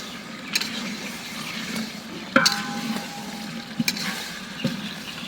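Meat fries in a pan with a steady soft sizzle, broken by a few sharp clicks and clinks of a utensil stirring, close by and moderately quiet.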